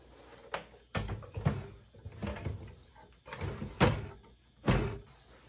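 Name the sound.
IGT S+ slot machine hopper being put back in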